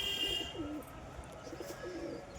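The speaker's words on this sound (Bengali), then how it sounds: "আরও কিছু পায়রা আপনাদের শো করাবো" Fancy pigeons in a loft give soft, rolling coos, a few low throaty calls rising over a faint steady background hum, fairly close and unhurried.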